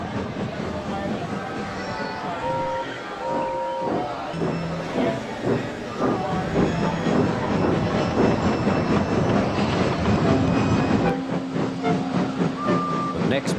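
Steam trains chug and clank along rails with hissing bursts and whistle tones, loud and continuous, with a voice speaking over parts of it.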